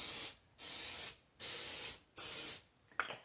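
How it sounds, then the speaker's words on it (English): Three crisp bursts of fine olive oil spray hiss from a spray bottle onto acorn squash, each about half a second long, separated by short pauses, close by with a small clatter at the end. "I'm just going to spray these with a little bit of olive oil."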